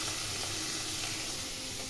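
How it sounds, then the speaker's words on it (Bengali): Onion, garlic and green chili frying in hot oil for a prawn curry give a close, even hiss and sizzle that holds steady throughout, with no speech. "রসুন, লঙ্কা ভেজে নিচ্ছি।"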